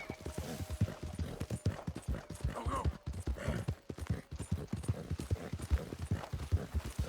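Horse hooves clip-clop steadily at a riding pace in Red Dead Redemption 2, a rapid, continuous rhythm of close, distinct impacts, with brief snorts and whinnies mixed in over low game ambience.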